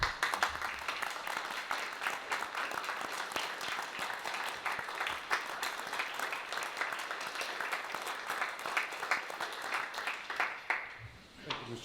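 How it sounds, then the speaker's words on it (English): A Board of Education audience breaks into sustained applause, a dense patter of many hands at moderate level that runs throughout before fading abruptly at the end. "I'm going to applaud them, and I wish you would join me"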